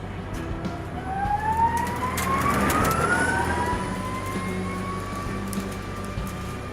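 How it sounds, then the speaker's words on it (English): Nissan Leaf electric race car on a racing circuit, its motor giving a loud rising whine that sweeps upward and then holds over a steady rumble. "It makes a loud whining noise."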